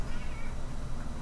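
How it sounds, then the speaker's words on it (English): A pet cat meowing close to the microphone, one drawn-out, fairly loud meow filling the short moment on its own. "Shut up, cat!"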